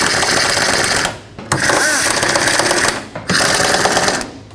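Loud, close bursts from a power ratchet snugging two 10mm fan shroud bolts on a 2003-2021 Chevrolet Express van, a rapid mechanical rattle running in three runs separated by short pauses.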